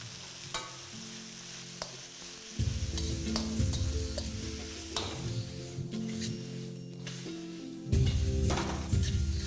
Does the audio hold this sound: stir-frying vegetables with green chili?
yes